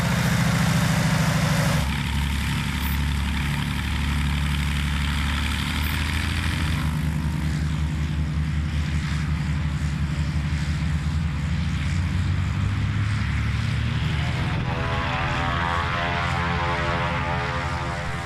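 A propeller plane's engine drones loudly and continuously close by at a mountain airstrip in Idaho, the pitch shifting and rising as power comes up for takeoff, with no voices.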